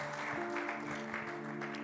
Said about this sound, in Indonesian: Yang percaya setuju berikan tepuk tangan bagi Tuhan Yesus.